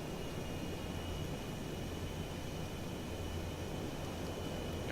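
A fixed-wing aircraft making a high-speed pass, a steady broad roar of engine and air rush holding level and continuous throughout, with no voices.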